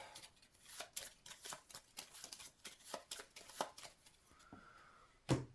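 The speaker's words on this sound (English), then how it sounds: "So we need to take the top card of the human deck and shuffle them up." Cards from a board game deck for The Elder Scrolls V: Skyrim The Adventure Game are shuffled with a quiet, steady run of papery flicks and riffles, close by with almost no talk.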